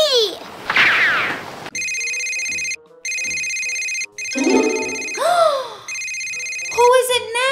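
A telephone ringtone repeats in steady, loud electronic bursts in a cartoon home scene, mixed with whooshing effects and animated character sounds.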